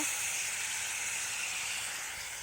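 Paneer and potato curry with spices and coriander sizzles steadily in a pan, a constant close hiss with no breaks and no talk.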